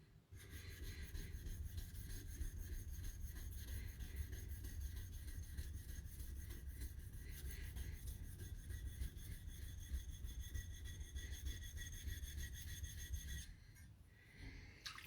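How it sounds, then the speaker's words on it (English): A Japanese blade's shinogi ground on a sharpening stone, producing a steady close rasping, rubbing scrape that runs continuously before stopping near the end. "So I'm gonna grind some more."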